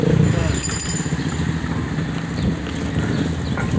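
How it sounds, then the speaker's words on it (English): A motorcycle passes on a hot summer street, a loud close engine drone that stays steady and eases off slightly toward the end. "Now there's a motorcycle coming."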